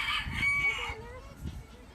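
A rooster-like crow from a salmon Faverolles hen rises and falls over about a second, followed by softer clucking and faint rustling nearby.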